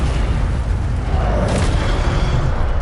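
Incendio fire spell cast in Hogwarts Legacy, a loud, dense booming whoosh of flame that rumbles steadily for a few seconds with a brief flare partway through.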